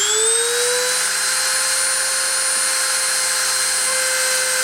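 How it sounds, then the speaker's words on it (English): Machine spindle spinning up for a metal deposition run, a steady whining drone with tones rising at the start and then holding level, loud and continuous throughout. "I'm going to start the spindle and start the deposition"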